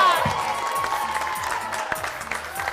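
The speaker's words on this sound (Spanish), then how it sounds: "¡Fuerte el aplauso!" Studio audience applauding and cheering on the Argentine game show El Precio Justo, a dense, steady wash of clapping with crowd noise and music-like tones running underneath for a few seconds.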